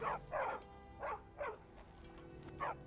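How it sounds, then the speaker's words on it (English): Repeated barking from a dog in the game Skyrim, five clear barks in an uneven rhythm, close and moderately loud over low background hum. "Hello, dog."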